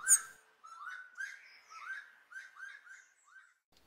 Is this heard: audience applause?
no